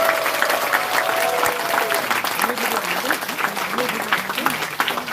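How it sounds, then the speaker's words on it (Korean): A crowd at a regional party members' rally in Eunpyeong applauds warmly to welcome a speaker. Continuous loud clapping fills the room, with voices and a faint tonal sound beneath it. "뜨거운 박수로 환영해 주십시오"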